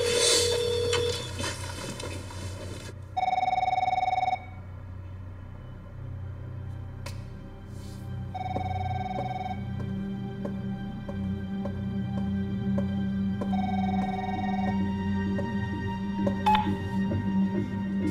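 A telephone rings in repeated bursts, three distinct rings separated by pauses, over a low background hum with faint clicks, no voices.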